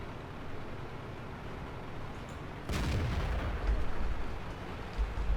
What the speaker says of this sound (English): Our artillery gets a couple of shots in.